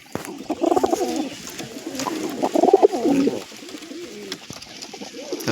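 Pigeons cooing at a nest holding eggs, a run of soft, throaty, close-up coos that rises and falls across the whole stretch with no talk.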